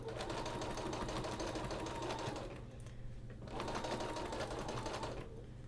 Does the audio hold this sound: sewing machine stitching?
yes